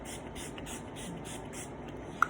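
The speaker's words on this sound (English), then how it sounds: "Just spray a little bit on my face." Fine mist from a facial primer spray bottle hissing in a few soft, even bursts, followed by a single small click near the end.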